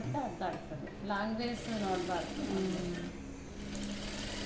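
A sewing machine stitches a fully lined blouse with a continuous whirring hum. A person talks over it almost the whole time.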